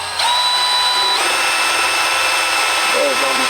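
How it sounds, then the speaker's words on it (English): A die grinder bit grinds out the eyes of a rotten latex zombie snail Halloween prop, a loud, steady high-pitched whine that runs continuously and shifts pitch once partway through. "I'll just use a die grinder bit."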